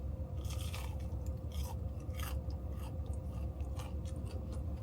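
Crispy Wendy's chicken tenders crunch in several close bites and chews, sharp crackles repeating over a faint steady background hum.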